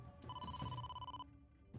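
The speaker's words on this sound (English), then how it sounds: "Oh, pick up the phone!" An in-game telephone rings in AI: The Somnium Files, a single bright electronic ring burst lasting about a second, faint and clean with no voices, then a short pause.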